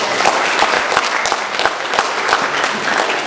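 Applause from an audience at a live comedy show, many hands clapping together with a few sharper, distinct claps standing out from the steady wash, with no one speaking over it.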